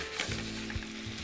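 Cherry tomatoes with red pepper flakes cook in a pan, giving a soft, even sizzle over a low hum with a brief stir near the middle. No one speaks.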